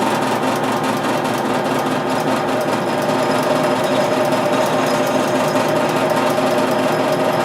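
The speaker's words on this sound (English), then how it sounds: "might have to turn up the drill press a bit" A drill press drones loudly and steadily up close, with a rapid mechanical rattle and whine and no pauses throughout.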